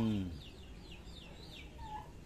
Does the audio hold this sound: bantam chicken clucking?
yes